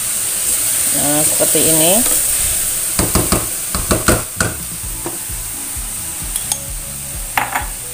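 Pan sizzling steadily as vegetables are stirred and a little water is added, with scraping utensil clinks and taps; a voice speaks briefly early on.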